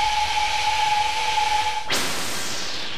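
Steady loud hiss of steam from a steam locomotive on the Osoblaha narrow-gauge line, with a faint whistle-like tone, shifting to a broader, brighter rush partway through.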